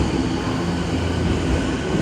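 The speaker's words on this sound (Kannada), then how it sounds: "ಮತ್ತೊಂದು ಟ್ರೈನ್ ಹೋಯಿತು" A train roars through a station in Japan, a loud continuous rumble of wheels and cars passing close by, with faint rhythmic rail clatter and no voices over it.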